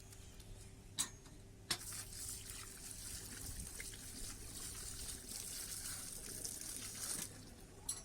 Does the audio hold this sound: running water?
yes